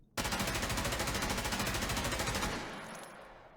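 Rapid automatic fire from an M4 rifle in Escape from Tarkov, a steady loud burst of evenly spaced shots lasting over two seconds, then a fading echoing tail.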